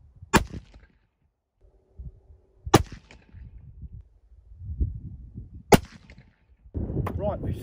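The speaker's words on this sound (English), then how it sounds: "So I'm just going to do a quick little 3-shot group." Weatherby Vanguard rifle in .204 Ruger firing a three-shot group, three sharp loud cracks spaced a few seconds apart, with handling noises between them and a voice speaking at the end.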